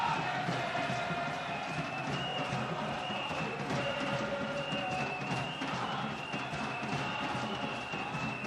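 Buoyant home football crowd at Stade de Franceville for Gabon versus Côte d'Ivoire, a dense continuous roar of chanting and noise, steady and far-reaching throughout, with no clear voice standing out.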